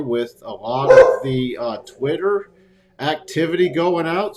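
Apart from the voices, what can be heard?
dogs barking in the background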